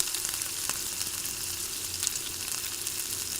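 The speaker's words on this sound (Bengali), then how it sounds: "পেঁয়াজগুলো আমি ভালোভাবে ভেজে নিব, একেবারে লাল লাল করে বেরেস্তাই করে নিব।" Sliced onions frying in oil until deep reddish-brown for a Bangladeshi village-style curry, giving a steady, close crackling sizzle throughout with a few sharper pops and no voices.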